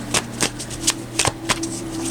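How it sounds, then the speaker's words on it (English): Tarot cards being shuffled by hand, a run of crisp riffling snaps and flutters in irregular bursts, close and fairly quiet over a faint steady hum, with no talking. "we're just going to shuffle live on camera till we fill up the screen"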